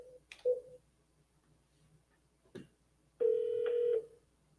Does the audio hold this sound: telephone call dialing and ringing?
yes